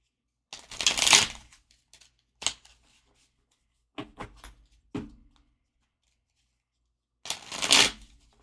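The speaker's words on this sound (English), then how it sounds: "If you guys ever wonder why I shuffle different ways" A deck of cards is shuffled in several separate bursts of riffling and snapping, loud and close, with quiet pauses between them.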